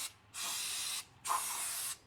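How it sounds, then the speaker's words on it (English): Brake cleaner sprayed during an oil change on a 2020 Ford Ranger 2.0 diesel: two close, sharp hissing bursts from an aerosol can, each lasting under a second, separated by a short pause. "I've got a bit of a brake cleaner here."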